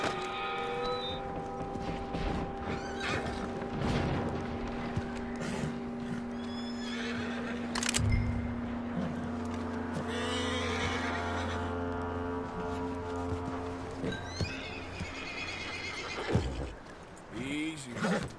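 A horse in the video game Red Dead Redemption 2 gives loud whinnies and snorts against game music and ambience, with hoof movement and people talking at points.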